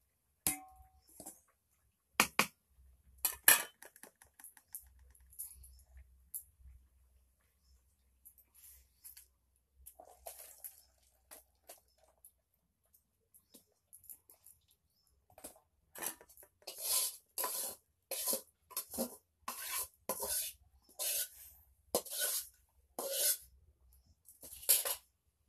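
Boiled banana flower strained in a kitchen, its water drained off: scattered clinks and scrapes of a strainer and utensils, quiet at first and growing busier, with denser metallic clatter and sloshing later on.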